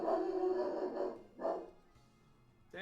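A dog-like Pokémon in Pokémon White gives a few synthetic bark-like cries, loud and close, with a short gap between them and another cry starting at the end.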